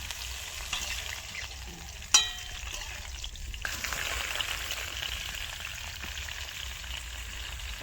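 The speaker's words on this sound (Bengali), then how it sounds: "সাবধানে ভাজতে হবে ভেঙে যাতে না যায়" Cauliflower florets frying in hot oil for a Bengali cauliflower roast give a steady, close sizzle throughout, with one sharp clatter of stirring just after two seconds.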